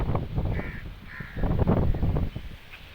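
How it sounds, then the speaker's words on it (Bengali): A crow caws repeatedly from close range near a rooftop during a windy storm. Its harsh calls cut through a loud, gusting roar of wind. "একটা কাক আমাকে দেখে চিল্লাচিল্লি করতেছে,"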